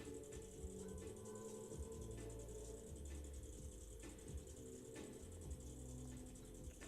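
A pottery wheel winding down, giving off a faint steady mechanical whir with soft rhythmic clicking, quiet and continuous with no talk.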